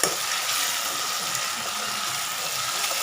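Tomatoes and chillies sautéing in a pan, a steady, dense sizzle and crackle holding even throughout, with no voices.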